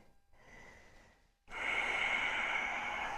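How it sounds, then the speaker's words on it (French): Slow, audible ujjayi yoga breathing close up: a soft, airy breath, a short pause, then a longer, stronger hissing breath drawn through a narrowed throat. "Revenez à votre respiration en Ujjayi."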